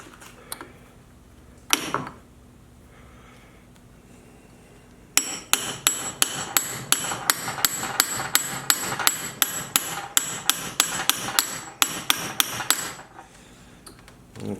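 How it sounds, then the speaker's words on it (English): A hammer drives a screw through a metal shaft clamped in a vise: one lone strike, then a steady run of about fifteen sharp, ringing blows at an even pace. "Now hopefully we should be able to just bang the rest of this"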